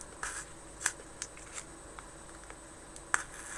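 Small sharp snips from cutting pins while building a 1/35 scale model window, several quiet clicks spaced irregularly over a few seconds, close up with no talk.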